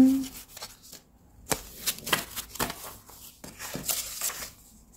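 Sheets of background paper for collage are handled, shuffled and flipped, giving crisp rustles and papery slaps in an irregular rhythm, close up and fairly loud.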